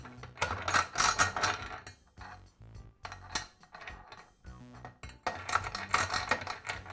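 Metal vise nut being set into the screw guide of a Makita chop saw during vise screw repair, giving a series of close, bright clinks and rattling mechanical clicks in irregular bursts with brief pauses.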